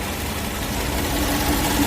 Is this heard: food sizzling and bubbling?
no